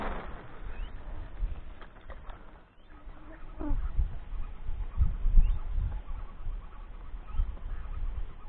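Wild ducks flying over a river near a village, calling with faint, scattered quacks and honks at a distance, heard over steady outdoor wind and water noise.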